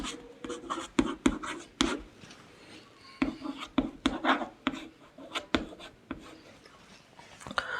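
Chalk or a marker scratches on a board as numbers are written, with quick, uneven strokes and taps in bursts and short pauses between them.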